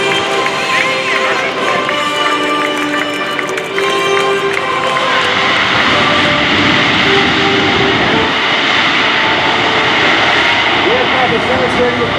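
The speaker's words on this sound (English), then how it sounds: "the crew will demonstrate a very short landing distance of the C-17" A Boeing C-17 Globemaster III jet transport making a short landing at an airshow, with a loud, sustained engine roar over steady broadband rumble and crowd noise throughout.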